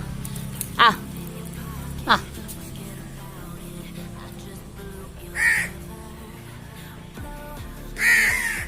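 Four separate crow caws spaced a few seconds apart, fairly near, over a quiet background with low murmuring.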